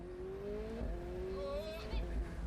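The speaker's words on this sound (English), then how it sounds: "that sounds pretty good. I mean, the turbo whistle and the exhaust." Video game car engine with turbo whistle and exhaust note, a steady rising whine over a rumbling exhaust, fairly close and continuous.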